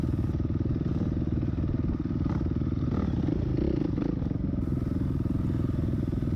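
A dirt bike ridden on trails the day before a sprint cross race at a farm, its engine droning steadily at moderate distance with faint clatter and small shifts in pitch throughout.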